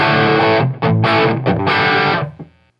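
Heavily distorted electric guitar through a JHS Double Barrel pedal, 808 drive fully up, plays a few saturated, buzzing chords in short bursts, then a ringing chord fades out.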